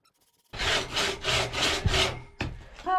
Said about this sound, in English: you can see that this is clearly a two-man crosscut saw